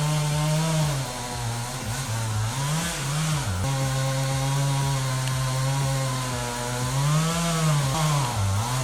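A Husqvarna 395 XP chainsaw cuts a hazardous dead pine tree, the close, loud two-stroke engine snarling and revving up and down in repeated surges without pause.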